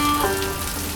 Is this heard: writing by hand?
no